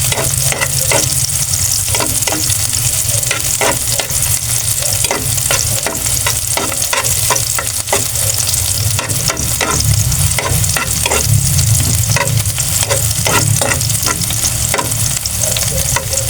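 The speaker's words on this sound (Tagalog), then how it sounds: "Igisa na po natin yung ating ricado. Pagsamahin na natin yung bawang at sibuyas." Garlic and onion sautéing together in hot oil, a loud continuous crackling sizzle with rapid repeated scraping of a spatula stirring, close and steady throughout, no voices.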